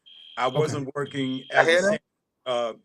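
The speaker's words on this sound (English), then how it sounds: "that's the fire alarm going off." A steady, high-pitched fire alarm tone sounds continuously beneath a man's close, conversational speech, carrying through pauses in his talking.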